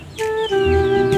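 Chickens give a short burst of loud, close clucking and squawking calls, with no one speaking.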